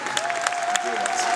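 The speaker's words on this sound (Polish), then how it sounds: "także duże brawa dla organizatorów" An audience at a carol competition gala breaks into a brief burst of clapping, steady and fairly close, with a sustained tone and some voices mixed in.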